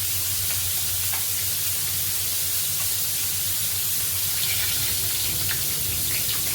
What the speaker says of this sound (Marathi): यामध्ये आपण सुरुवातीला थोडी हळद घालणार आहे, लाल तिखट